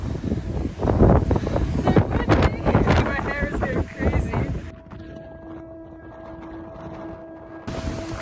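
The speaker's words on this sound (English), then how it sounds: "It is starting to get really windy up here." Strong wind buffets the microphone on a mountain summit about 500 to 600 meters up in Panama's Anton Valley near the Pacific, roaring in gusts under a speaking voice before dropping to a quieter hum.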